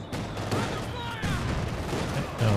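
Gunfire rattles continuously through a large 4v4 Company of Heroes 2 battle, with machine gun bursts supporting German grenadiers amid other battlefield noise, and a commentator talks over the fighting.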